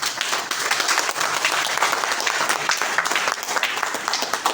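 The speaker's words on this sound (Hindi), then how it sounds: "एक बार जोरदार ताली बजाएंगे इस वाइटल क्षण पे" An audience at an RCM business training seminar breaks into loud, sustained applause, dense overlapping claps filling the room at an even level from start to finish.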